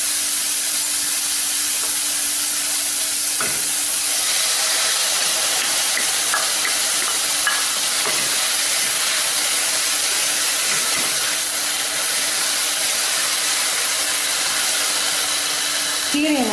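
Drumstick leaves and tomato sautéing in a pan with turmeric, giving a steady loud hiss and sizzle throughout, with a few faint clinks and stirring sounds over the top.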